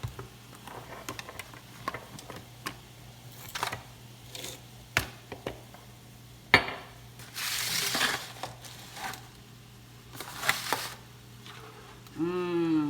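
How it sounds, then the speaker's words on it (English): Cooked shrimp tumble into a hot pan for Cajun shrimp and grits, bringing a scatter of clatters and clicks, a burst of sizzling frying, and soft stirring scrapes, up close with no talk. "Shrimp is done, so we're going to add that to our pot, our pan."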